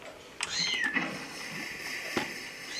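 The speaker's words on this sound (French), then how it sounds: "Si vous entendez des cris de petits chats" Kittens meow near the microphone with a few thin, high cries, one drawn out and then a sharper call, fairly faint over a quiet background.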